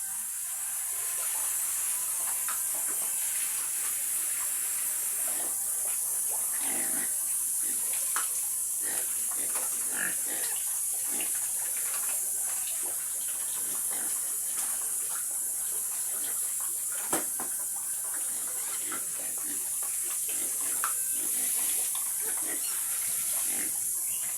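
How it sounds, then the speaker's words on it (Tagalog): A piglet being bathed with water on a farm, a steady hiss of spraying water running throughout, with faint piglet grunts and snorts underneath. "Pinapaligo yung biik namin."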